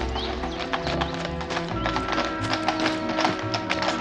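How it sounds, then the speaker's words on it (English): A horse-drawn carriage rolls through a Victorian street, its hooves clip-clopping in a steady, close rhythm over wheel rumble, with a brief whinny and busy background noise. "Stop the carriage, Watson"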